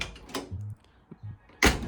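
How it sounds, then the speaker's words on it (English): Door of a Datsun 510 with worn hinges opening: a short click and creak, a soft clunk as the door drops and settles, then a louder sharp knock at the end, all close and brief. "once you open this door, you could hear it kind of like drop a bit and just like kind of adjust itself a little bit"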